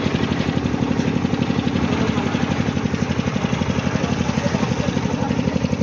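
Engine of a large fishing boat at Petua Ghat, a steady, loud, close rumble with an even rapid throb that carries through the whole stretch without pause.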